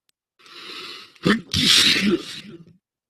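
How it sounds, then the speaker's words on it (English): A single loud sneeze close by, a breathy wind-up followed by a sharp burst and a trailing exhale, with a voice acting out the buildup. "I huffed, and I snuffed, and I sneezed a great sneeze."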